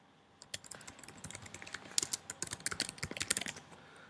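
Login details are typed on a computer keyboard in a quick run of crisp, close key clicks that speeds up toward the end, with no voices.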